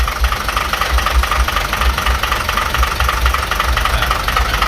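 A 6 m minibus engine idling close by, a loud, steady low rumble with a regular knocking pulse and no talk.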